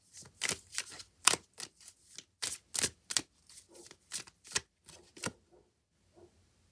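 Tarot cards shuffled by hand for drawing a card make a series of crisp riffling bursts and slaps at close range, irregular in rhythm, fading into quieter handling at the end.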